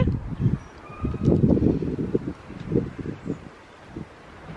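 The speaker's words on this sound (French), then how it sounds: "il y a le vent qui commence à se lever" Wind rising in uneven gusts, soft rumbling bursts that swell and fade, with faint rustling in the background.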